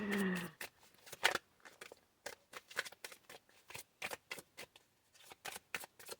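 Tarot cards shuffled by hand, a series of crisp riffling bursts and snaps in an uneven rhythm, close and fairly quiet, with short pauses between shuffles.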